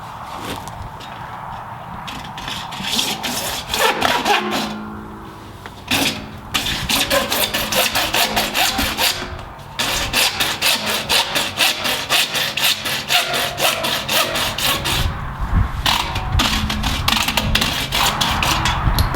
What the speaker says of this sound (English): We'll take and cut the beveled end off